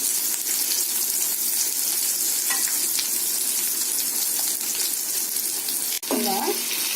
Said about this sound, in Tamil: போட்டு வெங்காயம் நறுக்கி வச்ச வெங்காயத்தையும் போட்டுறோம்.